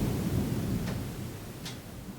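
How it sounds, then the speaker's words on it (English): Thunder during a rainstorm rolls as a low, continuous rumble that fades gradually, with a couple of faint brief crackles over the top and no talking. "Thunder."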